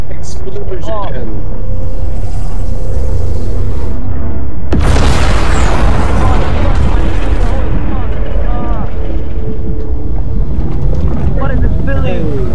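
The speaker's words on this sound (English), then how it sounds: "Explosion." A loud explosion in the Pentazone 2 Delta fangame booms suddenly midway, with a roaring, wind-like blast tail that fades over several seconds, while excited voices chatter around it.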